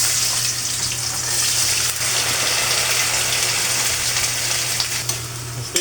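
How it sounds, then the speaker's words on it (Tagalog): A glass of water hits a hot pan of pork stir-fry, giving a loud, steady sizzle and bubbling hiss with a low hum beneath and a faint clink near the end. "Lagyan natin Buddy na isang basong tubig para lalong masyang magpapalambot sa ating karne ng baboy."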